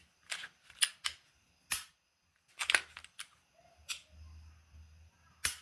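Handgun slide being racked and trigger reset, a series of crisp separate metallic clicks and clacks, close and fairly quiet, spaced irregularly with no speech.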